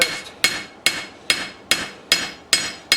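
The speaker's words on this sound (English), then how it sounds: "if you're pounding the steel out like this, it's going to make the point come up" A hammer pounds out a steel knife blade on an anvil in a new forge, with seven loud, ringing metallic strikes at a steady, even rhythm, each ringing briefly before the next blow.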